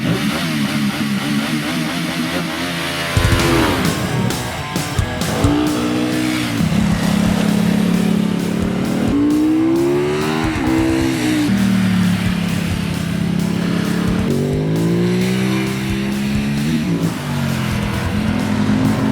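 A Ducati Multistrada Enduro and a KTM 1290 Super Adventure ride hard on a winding road, their engines loud and close, revving and rising in pitch again and again through the gears, with a sharp jump in volume early on and no talk.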